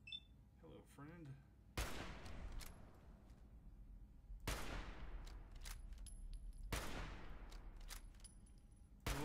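Gunfire in the video game Fallout Equestria: Star-Crossed: three loud, sharp shots spaced a few seconds apart, each with a long decaying tail, over a busy game soundscape with a brief voice-like chirp near the start.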